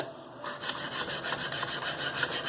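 A CPM S110V steel knife blade is sharpened in quick, even rasping strokes, close and clear, about a handful of scrapes in a steady rhythm after a brief quiet start.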